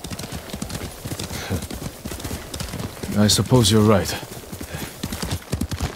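Horse hooves clip-clop at a steady riding rhythm in the Ghost of Tsushima video game, close and continuous beneath a calm conversation between riders, with a brief louder swell midway.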